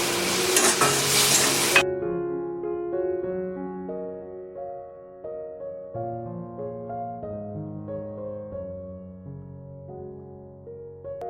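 Chopped onions with a pinch of salt sizzle loudly as they are stirred in a pan for a parshe fish curry, a short burst that quickly gives way to gentle music.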